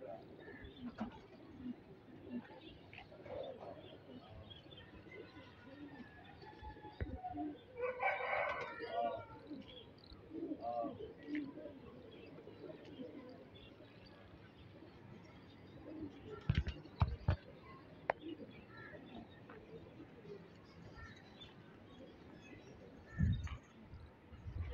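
Faint pigeon cooing from returning tumbler pigeons, set against steady outdoor noise with occasional knocks and bird calls nearby.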